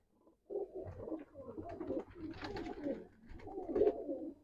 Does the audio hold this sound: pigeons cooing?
yes